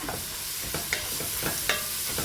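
Carrots and capsicum sauté in a pan, a constant sizzle broken by several sharp scrapes and clacks of a stirring spoon, close and with no talking.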